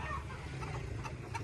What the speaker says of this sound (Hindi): मुर्गियाँ भी पाली हुई हैं